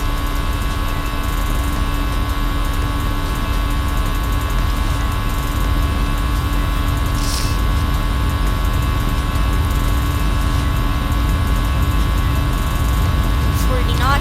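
Airbus A320 engines spool up to full throttle for the takeoff roll in a flight simulator, a steady, loud broadband roar with a faint tonal whine that holds constant throughout, with no clear change in pitch.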